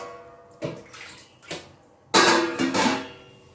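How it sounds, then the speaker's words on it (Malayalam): Water is poured over jaggery in a cooking pan in a few short splashy bursts, the last pour longer and louder, close up with no talking. "അര കപ്പും കൂടെ വെള്ളം ഒഴിച്ചു കൊടുക്കാം"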